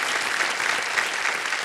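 Studio audience on the KBC game show breaks into steady, dense applause that fills the room evenly from start to finish with no talk over it.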